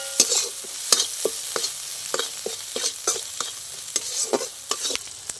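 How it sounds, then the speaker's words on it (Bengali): Mustard and poppy seed spice paste being stirred and fried in a pan, with steady sizzling under repeated sharp scrapes of a spatula in an uneven rhythm, close and fairly loud, no talking. "এবার মশলাটা খুব ভালো করে আমি কিছুক্ষণ কষিয়ে নেব"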